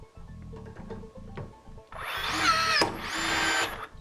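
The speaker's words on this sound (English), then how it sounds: "So we have 2 rivets to pull." A powered riveting tool pulls rivets in a workshop: a few soft mechanical clicks and low rattles, then two loud, close whirring bursts with a sharp snap between them as the rivets are set.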